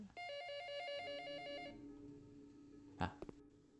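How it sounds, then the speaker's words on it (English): An old-style telephone bell rings in the PC game The Shattering, a bright repeated trill for nearly two seconds, then a fading tone and a couple of short clunks. "Is that our phone?"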